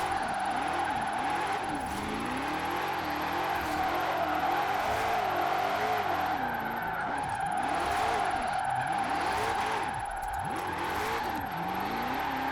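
A heavily tuned, wheelspin-built car drifts in Forza Horizon 4, its engine revving hard and rising and falling in pitch while the tires squeal continuously through long slides at full lock, loud and steady throughout.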